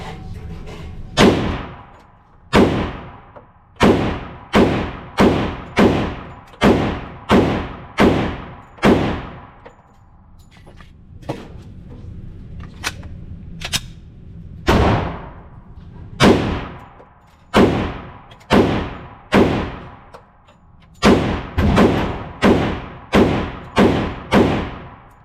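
Rapid pistol gunshots from a Glock firing Liberty Civil Defense 60 grain bullets at 2,400 feet per second, roughly twenty loud, sharp cracks in quick strings with brief pauses between groups, outdoors with no talking.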